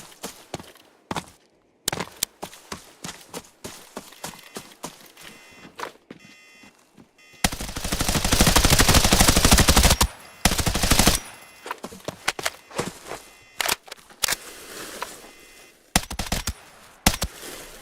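Gunfire in the shooter game Arena Breakout Infinite: dense automatic bursts and single shots, loud and close, with a long sustained volley in the middle and scattered shots before and after, no talk.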